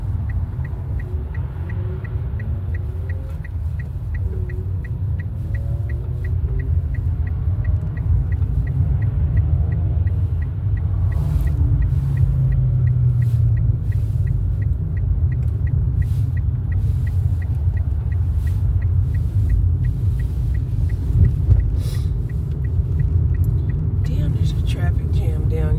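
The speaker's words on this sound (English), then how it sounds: "Traffic jam going south and a traffic jam going north." Cars stuck in a traffic jam heading both north and south give a steady, low engine rumble that lasts throughout, with faint hisses and clicks above it and voices murmuring underneath.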